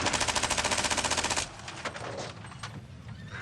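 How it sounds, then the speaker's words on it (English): Rapid machine-gun fire from a classic Doctor Who scene, a loud sustained burst of evenly spaced shots that cuts off abruptly, followed by scattered fainter bangs and debris. "Although it is also fairly memorable for having the Doctor gun down Hagans"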